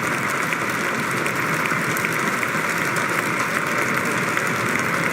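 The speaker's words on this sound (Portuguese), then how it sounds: "E aplaudido." Crowd applause at Donald Trump's presidential inauguration speech, a steady dense roar of clapping from a large outdoor audience that holds level throughout, with a faint low rumble beneath and no voices.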